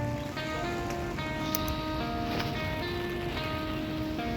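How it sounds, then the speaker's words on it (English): Rain falls steadily outdoors as a dense, even hiss of drops. A bright tonal hum or chirping rises and falls faintly in the background, and no one speaks. "Oh, it's raining still."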